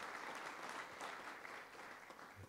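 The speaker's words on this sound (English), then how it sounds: "Give him a round of applause for our leader" A crowd applauds a leader, President Papp, at a press conference in Kennesaw, steady clapping filling the room without a break for the whole stretch.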